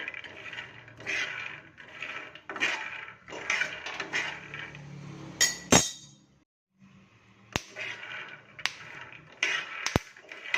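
Peanuts dry-roasting slowly in a pan for peanut chutney, giving repeated scraping and rattling strokes of a spatula against the pan with intermittent metallic clinks, close and moderately loud, with no talk.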